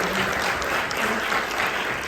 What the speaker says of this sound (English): Round of applause for this festival.